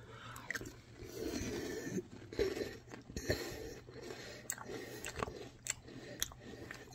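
Someone eating Little Debbie Nutty Buddy cereal, with close, wet chewing and crunching bites repeating irregularly over a low steady background hum.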